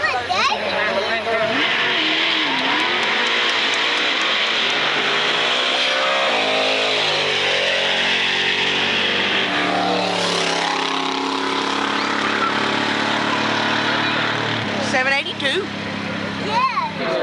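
A big-cubic-inch Studebaker Champ pickup truck racing at a Centerville drag strip in 1998, its engine roaring loud and sustained with sweeping revs and gear changes, an announcer's voice running over it.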